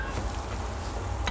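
Chicken shami kebabs, dipped in egg, frying in cooking oil in a pan, giving a soft, steady sizzle and crackle that stays quiet and continuous, with no talk.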